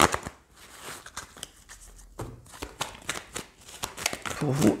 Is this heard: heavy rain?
no